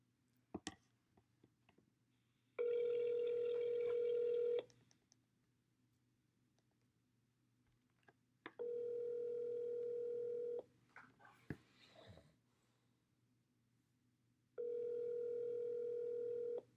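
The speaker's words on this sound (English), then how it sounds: "I'm calling him right now so you guys can hear me negotiate." A telephone ringback tone repeats three times, each about two seconds long, separated by quiet pauses with faint clicks and handling noise.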